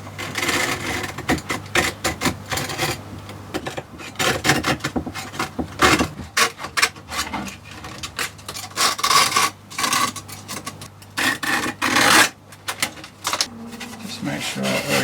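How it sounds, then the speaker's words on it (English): A knife trimming around the edge of a skateboard deck glued onto a Razor E300 electric scooter, giving a series of uneven scraping, rasping strokes with short pauses, close and fairly loud. "It's always best to keep your knife at an angle as you're going round"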